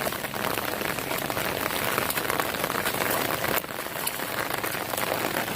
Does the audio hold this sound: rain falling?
yes